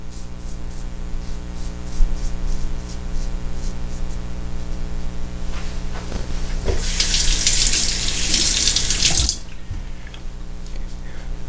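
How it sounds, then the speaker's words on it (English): Tap water runs as a Feather Japanese razor blade is rinsed during a beard shave. A steady low hum gives way to a loud rush of water for about two seconds, which then stops abruptly. "I need to rinse more often because I'm removing a lot of hair, so you want to keep the blade clean"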